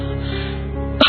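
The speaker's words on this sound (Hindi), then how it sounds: "ये खांसी तो जा ही नहीं रही है।" A woman gives one short, harsh cough close up at the end, after a steady background hum.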